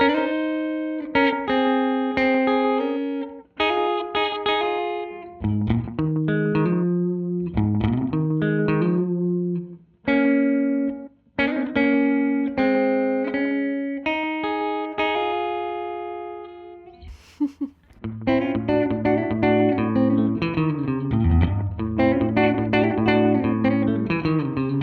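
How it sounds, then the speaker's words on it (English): Guitar played through a multi-mode delay and reverb pedal in a country style, with a faster modulation rate, low feedback and mix, and short reverb decay; picked note runs and chords ring out clearly alone, with a denser strummed passage near the end. "I sped up the rate, I dropped the feedback, dropped the mix on both sides, and lowered the decay on the reverb."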